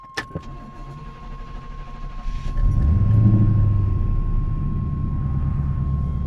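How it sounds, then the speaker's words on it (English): A 1982 Corvette Crossfire Injection engine cranks and catches after a brief clatter, then settles into a steady low rumbling idle that continues close by. "Go ahead and start it up."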